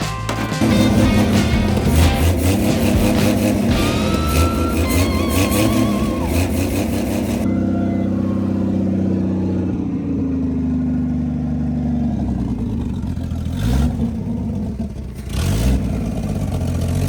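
A Ford Edsel's engine runs loud and close, its idle climbing and revving hard with rough clatter for several seconds, then dropping back to a lower, uneven idle with a couple of brief blips near the end.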